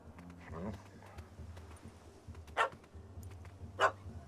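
Two short, sharp dog barks from a puppy in The Witcher 3 video game, sounding mid-distance against a low ambient game backdrop.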